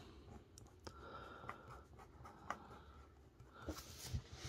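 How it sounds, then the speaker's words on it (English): A Jinhao 992 fountain pen with a red hooded nib scratches faintly across paper in short strokes and light taps, close up and quiet over a soft background hiss. "I will try to write with it."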